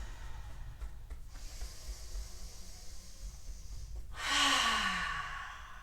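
Deep, slow breathing during a fist-pressure upper back massage, a long breathy exhale swelling near the end after quieter breaths, close and alone with no talk.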